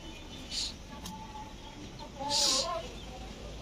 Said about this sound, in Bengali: দেশি মুরগির বাচ্চাগুলো খাবার খাচ্ছে